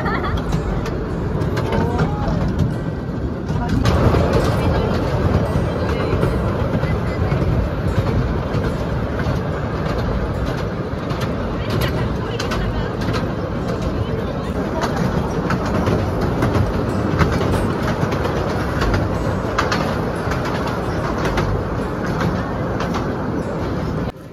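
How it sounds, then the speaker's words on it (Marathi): A small mini train packed with passengers rolls along at Elephanta Caves, a steady rumble with rhythmic clatter running throughout at close range. "आम्ही या छोट्याशा मिनी ट्रेनमध्ये बसलो आहे"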